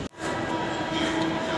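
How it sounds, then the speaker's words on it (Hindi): A metro train pulls out of an Anand Vihar station at night, a steady rumbling roar with a faint tonal whine that starts after a brief thump and holds loud and even. "अरे हमारी मेट्रो निकल गई है लास्ट"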